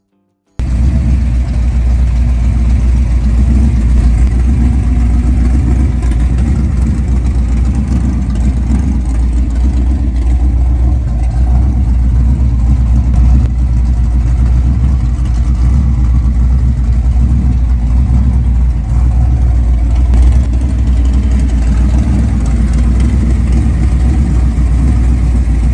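A 1962 Plymouth Savoy pro street car with a professionally built 572 engine running, a loud, deep, steady rumbling idle with a lopey low-end throb that holds throughout.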